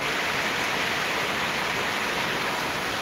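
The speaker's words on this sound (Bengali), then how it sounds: "এইরকম বৃষ্টি পড়তেছে বর্তমান" Steady rain pouring down outdoors, a dense continuous hiss with no distinct drops, loud and even throughout with no voices.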